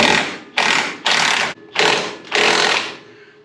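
A power tool loosens the upper control arm on a scrapyard K5 Blazer during a front end strip down, running in four loud, close bursts of rattling mechanical whir separated by short pauses.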